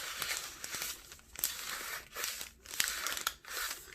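Thin Tomoe River paper in a Hobonichi Techo planner is crinkled by hand close up, a quiet run of crisp rustling and crackling bursts with brief pauses between them.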